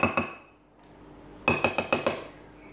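A utensil stirs cookie dough in a bowl, giving bright clinks against the side. Two quick taps come first, then a pause, then a fast run of five clinks, close and clear.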